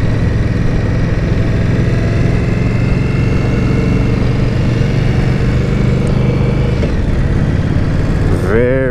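A 2018 Indian Scout motorcycle engine rumbles steadily at close range during a test ride at Biketoberfest in front of Daytona International Speedway, a constant low drone with a brief rise near the end.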